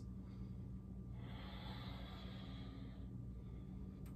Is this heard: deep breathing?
yes